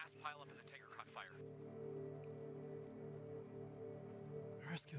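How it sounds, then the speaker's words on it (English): Rain pours steadily in the video game Dispatch, a constant hiss spread over the whole stretch, with a voice speaking over it at the start and briefly again at the end. "The fire is growing despite the rain."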